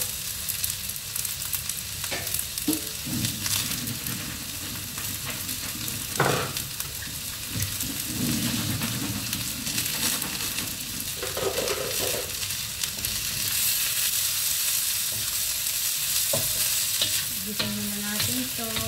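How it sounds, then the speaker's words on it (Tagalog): Green beans, carrots and potato sautéing in a pan for a pig liver dish, a steady sizzle with repeated scraping stirs of the spatula throughout, close and continuous with no talking. "Gisahin na natin ito para hindi ma-over o tumigas yung liver."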